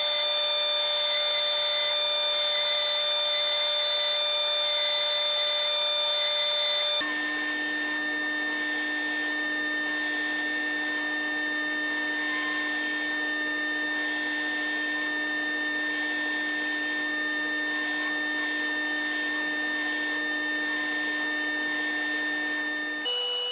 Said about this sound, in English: use a large Forstner bit with the Jacob's chuck and hog out most of the middle material